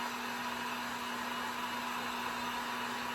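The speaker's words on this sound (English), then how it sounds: "I'm gonna grab my heat gun that I threw on the floor and dry these." A heat gun blows hot air to dry a layer of craft material for Valentine's goodie bags, a steady, even whoosh with a constant motor hum running unbroken throughout, close and moderately loud.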